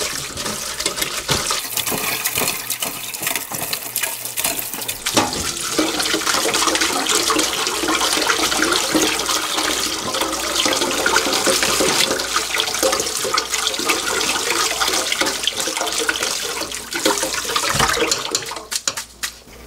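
Tap water running forcefully and continuously over pollock and noodle ingredients being rinsed and kneaded by hand to wash off starch, a loud steady gush with splashing.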